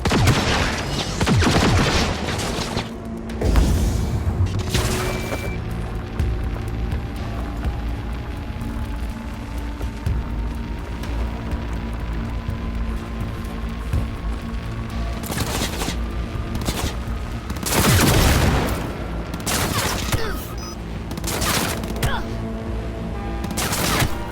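Gunfire in Cyberpunk 2077, loud bursts of automatic shooting in several heavy clusters with a dense rumbling din and booms between them, close and intense, with brief shouted voices mixed in.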